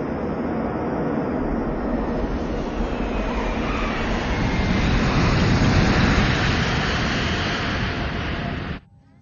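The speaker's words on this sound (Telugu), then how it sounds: "మన ఫ్లైట్ ని గోవాలో ఎమర్జెన్సీ ల్యాండింగ్ చేస్తున్నాం" Airplane making an emergency landing: a loud, steady engine roar and rushing air, swelling slightly midway, then cutting off abruptly at the end.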